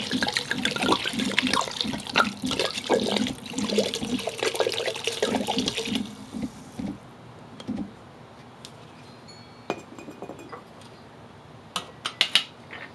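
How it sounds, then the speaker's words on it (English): A bottle of Cabernet wine glugs and splashes as it is poured into a Dutch oven for braised short ribs, a loud continuous pour that cuts off partway, followed by quiet clinks. "I'm going to add that wine, the bottle of the Cabernet."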